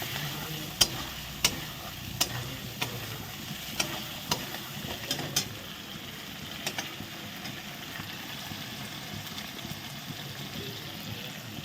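Poppy seed paste being stirred into frying potatoes in a pan, with a steady background sizzle and sharp periodic scrapes and taps of the spatula, close and moderately loud, no voices.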